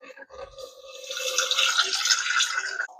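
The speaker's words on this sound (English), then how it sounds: "I'm going to add some water to this." Water poured from a container onto broccoli sprout seeds, a steady close-up trickle and splash that begins softly and builds into a continuous pour lasting a few seconds before cutting off.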